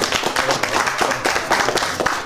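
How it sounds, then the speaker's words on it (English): Dense applause from an audience for a guest being introduced, a steady wash of many hands clapping at close range, continuous and fairly loud throughout. "applause for the brother"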